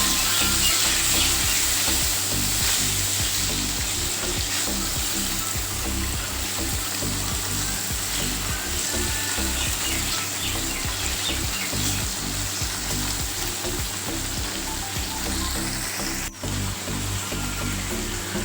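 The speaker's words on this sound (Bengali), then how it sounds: "ওই তেলেই পনিরগুলোকে আমি এবার ভালো করে ভেজে নেব" Paneer pieces sprinkled with turmeric frying in oil, a loud, steady sizzle and crackle that runs throughout with one sharp tap near the end.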